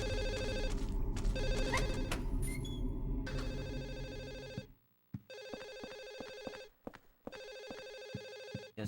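A telephone rings repeatedly in Silent Hill 4: The Room on Xbox, its electronic trilling bursts loud and close, first over a dense low rumbling ambience, then alone in near silence with short gaps between rings.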